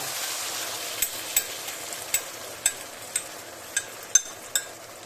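Sausage casserole in a pan takes poured gravy, giving a steady soft sizzle broken by about nine sharp light clicks of a spoon against the pan at an uneven pace, near and fairly quiet, with no talk.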